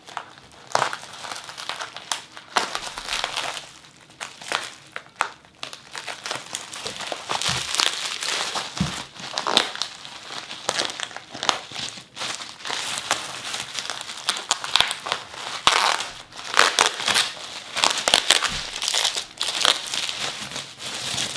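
Bubble wrap held with tape being unwrapped and loosened, producing continuous close crinkling and crackling with irregular bursts of louder rustle throughout.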